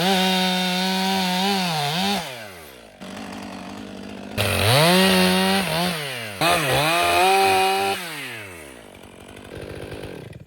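A stock chainsaw bucks a firewood log with a soft core, its engine screaming loud and close in long cutting pulls, dropping to a lower idle between cuts and revving up again.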